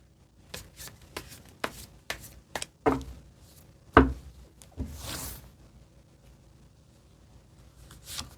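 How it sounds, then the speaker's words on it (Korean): Tarot cards riffled and slapped down during a reading, a run of quick crisp flicks and taps, then a louder shuffle and a soft sliding spread, close by with no voices. "네, 그럼 좋은 카드 좀 더 상세하게 펼쳐볼게요"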